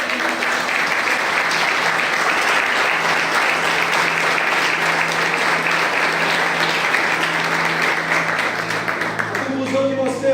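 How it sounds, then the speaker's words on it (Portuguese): Church congregation applauding the Lord during a sermon, dense sustained clapping that fills the room loudly and evenly for about ten seconds, fading near the end as a voice and music begin. "Você pode aplaudir ao Senhor?"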